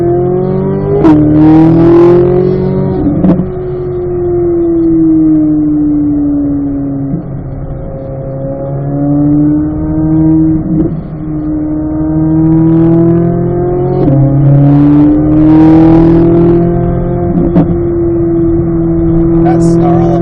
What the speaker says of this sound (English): That snarl and pop, it just really feels in its element when it's at about 100 miles an hour.